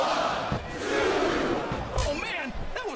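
An arena crowd in the WWE SmackDown vs Raw 2007 wrestling video game roars and chants steadily throughout, with a commentator's voice briefly cutting in over the din.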